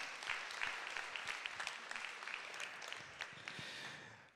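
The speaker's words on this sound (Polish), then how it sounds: "Brawa!" Audience applause at an award ceremony, a dense but quiet wash of clapping heard from a distance, steady throughout and fading at the very end.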